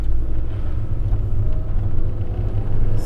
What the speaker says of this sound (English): Drop down the windows and we'll get a bit of that noise of this Boxer engine.